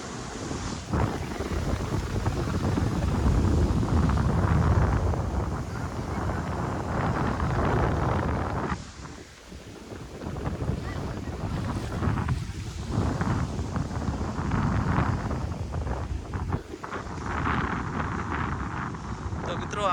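Strong wind buffeting the microphone at Mandavi beach by the sea, a loud continuous roar with gusts rising and falling, surf faintly beneath, and people talking intermittently under it.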